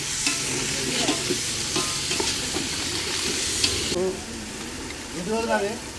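Food is stirred in a hot pan over a roadside fire: a steady sizzle with repeated spoon scrapes and clinks, and voices talking nearby toward the end.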